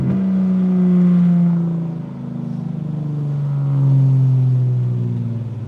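BMW E90 325xi sedan engine droning loud and close, pitch rising with acceleration, easing off, then climbing again under steady load, with no talk.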